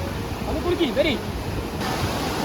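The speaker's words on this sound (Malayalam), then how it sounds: "വെള്ളച്ചാട്ടത്തിന്റെ ഒഴുക്കും തണവും സ്മിതേഷിന്റെ തള്ളും ഞങ്ങളെ അതിൽ കുളിക്കാൻ" Steady rushing water roar, like a waterfall, with faint indistinct voices briefly audible beneath it.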